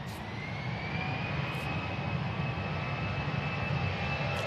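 An EasyJet jet airliner at Manchester Airport produces a steady, continuous jet engine roar with a whining tone, moderately loud and unbroken, with a few faint brief clicks.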